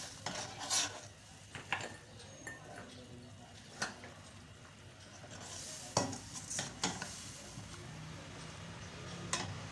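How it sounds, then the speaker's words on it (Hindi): A ginger, garlic, tomato and green chili paste goes into a pot of Peshawari desi chicken karahi, with stirring scrapes, a few sharp utensil clinks against the pan and a faint sizzle, fairly close and with no talk. "अब ये मैंने जो पेस्ट बनाई है वो डाल देती हूँ। अदरक, लहसुन, टमाटर और हरी मिर्च की।"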